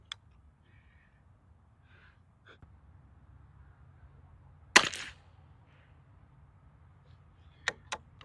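A single rifle shot from a custom Turbo v2 at an outdoor range, a sharp crack with a short decay in otherwise quiet wind, followed later by a couple of faint clicks.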